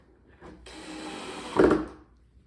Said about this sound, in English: Come back through with the silver screws. And then these pocket holes right here.